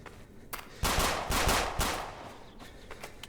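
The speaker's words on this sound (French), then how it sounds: "je t'ai repéré au coup de feu" Loud bursts of gunfire in a French-language survival video game, several rapid shots clustered near the middle with fainter distant pops around them, no talking over them.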